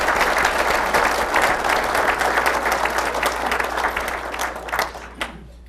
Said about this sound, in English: So let's give Phil a round of applause.